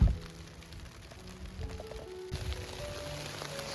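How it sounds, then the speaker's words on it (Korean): Sleet falling outdoors in mid-April on a vegetable plot, a continuous fine patter of icy drops spread evenly across a quiet open space with no voices. "4월 중순에 진눈깨비 같은 눈이 내리고 있습니다."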